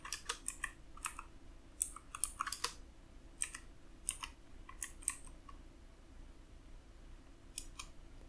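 Quiet, scattered keystrokes clatter on a computer keyboard while code is typed, arriving in short irregular bursts with pauses between them and no talking.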